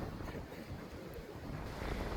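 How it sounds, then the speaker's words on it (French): Strong wind buffets the microphone in a steady, heavy roar with gusty low rumbling throughout, no voices. "Il y a beaucoup de vent."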